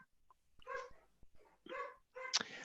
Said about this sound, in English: Sorry, that's my dog.